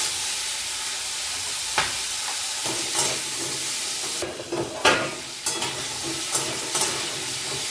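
Crab fries in hot mustard oil with a loud, continuous hissing sizzle, and a utensil stirs the pan with several sharp scrapes and clatters. No one talks.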